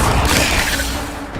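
A Levioso spell cast in Hogwarts Legacy, heard as a loud, short magical whoosh and burst that lands with a booming impact and fades over about a second.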